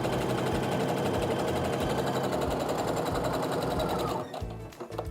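A domestic sewing machine runs steadily while stitching the long seams of a quilt top, its loud, fast, even chatter continuing without pause for about four seconds before stopping, followed by a few soft handling bumps.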